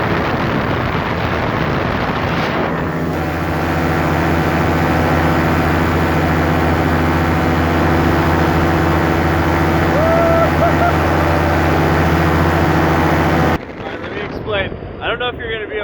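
A paramotor engine drones loudly and steadily in flight with wind rushing over the microphone, cutting off abruptly near the end.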